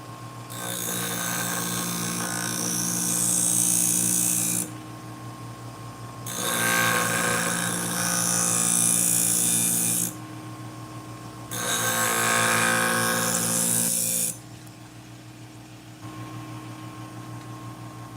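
Sewing scissors blade being sharpened on a powered sharpener: three long, loud grinding passes of a few seconds each, separated by pauses where only a motor's steady hum remains, close up and with no talk.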